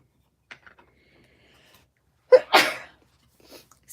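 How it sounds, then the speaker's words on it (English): A single sharp human sneeze, a quick inhale and then a loud burst, close and alone in an otherwise quiet room with faint small sounds around it. "Sometimes I make crazy noises when I sneeze too."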